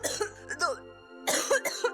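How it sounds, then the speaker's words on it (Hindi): A young woman coughs several times in short bursts in a home setting, a quick cluster, a pause, then another harsher cluster, close and fairly loud. "तू खांस क्यों रही है?"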